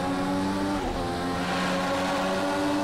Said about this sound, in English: you can hear the car echoing off the grandstands next to you and the tunnels